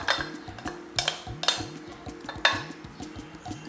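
Spoon stirring coarse ground dal powder into thick, sticky sugar syrup in a pan over a low flame, a steady close-up rhythm of scraping strokes with repeated clinks against the pan.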